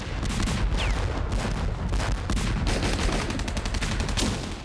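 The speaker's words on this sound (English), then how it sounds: "They were supported by a constant air and naval bombardment from the invasion fleet" Iwo Jima battle in the Pacific during World War 2, with dense, loud gunfire and rapid bursts under heavy naval and air bombardment, continuous and close.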